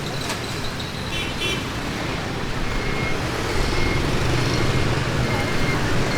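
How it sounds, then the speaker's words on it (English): Busy street traffic in Vietnam, a dense roar of engines and passing vehicles with occasional beeps and horns, steady and close, with people talking faintly in the background. "So crazy traffic across here."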